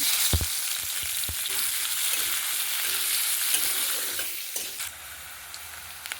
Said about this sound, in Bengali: গরম হয়ে গেছে পেঁয়াজ কুচিটা দিয়ে দিচ্ছি